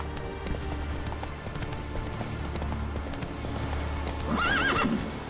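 In The Witcher 3: Wild Hunt, a horse gallops with rapid clip-clopping hoofbeats under ambient game sound, then lets out a loud, clear neigh near the end.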